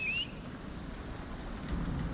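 Steady rain and low storm rumble in the Dragon Age Inquisition game world, a constant wash of noise with a faint rolling undertone throughout, no voices.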